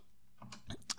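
Typing on a computer keyboard while coding a web application: a few faint, quiet key clicks in a brief, irregular burst.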